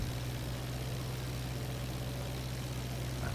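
Aircraft engine in the IL-2 flight sim game, a steady low droning hum with constant loudness, even and unbroken throughout, no voices.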